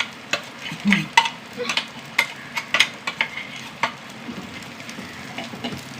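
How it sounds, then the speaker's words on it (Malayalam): Shallots fry in hot oil with ground cumin and black pepper, a soft steady sizzle broken by frequent sharp crackles and pops and the scrape of stirring, close up with no talking. "ചെറിയുള્ളി മൂത്ത് വന്നു നേരത്തെ പൊടിച്ച് വെച്ചില്ലേ ജീരം കുരുമുളക് അതിൽ ഇട്ട് കൊടുക്കാം"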